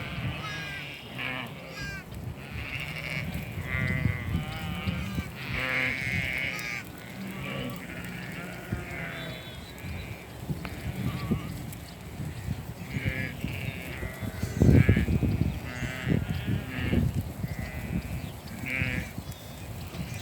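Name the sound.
sheep and lambs bleating in lambing pasture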